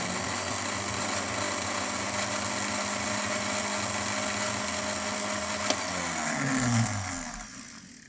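A mixer grinder whirs steadily as it blends soaked figs with a spoonful of yogurt, a loud continuous motor drone that winds down and stops near the end.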